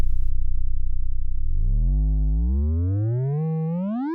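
A Moog Labyrinth oscillator starting as a low buzzing drone near 20 Hz, holding briefly, then sweeping steadily upward in pitch through a rich, harmonic-laden tone, loud and alone.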